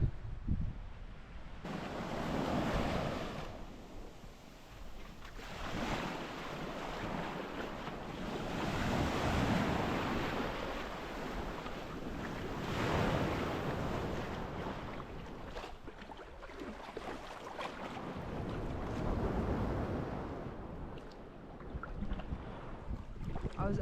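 Ocean waves break and wash onto a beach at Jervis Bay, surging and receding in broad swells under heavy wind buffeting the microphone.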